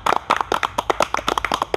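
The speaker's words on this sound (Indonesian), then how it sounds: "Tepuk tangan dong." An audience of students welcoming a visiting group at an Islamic school, a short burst of sharp, fairly close handclaps in an uneven rhythm with no talk over them.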